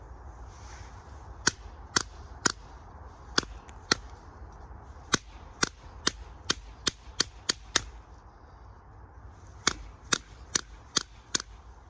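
A knife being struck through a piece of wood at an outdoor camp fire pit, producing sharp, loud cracking knocks in irregular bursts, some in quick runs of three or four, over a low steady background rumble.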